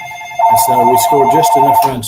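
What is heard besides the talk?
telephone ringing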